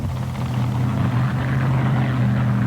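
Loud, steady roar of a mud racing car engine at a 1992 NMRA mud race in Butler, Pennsylvania, a dense low rumble holding constant throughout with no voices.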